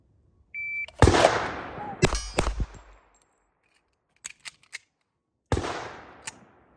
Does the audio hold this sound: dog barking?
no